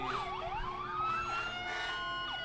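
A fire engine siren wails and yelps in rising and falling sweeps during a Memorial Day parade in Dunkirk, NY, loud and steady over a low engine rumble.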